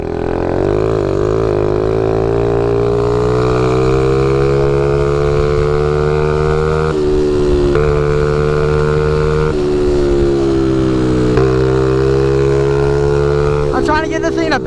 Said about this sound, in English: I'm trying to get this thing to backfire.